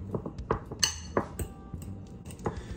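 Eggs being whisked with grated Parmesan and pecorino for spaghetti carbonara, a utensil clinking against a bowl in irregular, close taps and scrapes.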